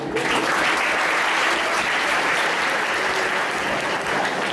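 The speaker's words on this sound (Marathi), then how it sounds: "मुलांनो जरा टाळ्या देत चला, जरा टाळ्या देत चला." Children clap together at an Independence Day celebration, a dense, steady burst of applause that stays loud and close for the whole few seconds.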